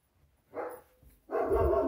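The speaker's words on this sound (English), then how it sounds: "And I got dogs barking" A dog barks twice in quick succession from somewhere nearby: a short single bark and then a louder, longer bark after a brief pause, with no talking.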